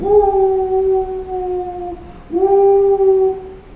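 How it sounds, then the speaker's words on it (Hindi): A pack of foxes howling together, long sustained tonal howls that hold, dip briefly and rise again, loud and close with no voices over them. "ये 20 लोमड़ियां एक साथ गाने लगी।"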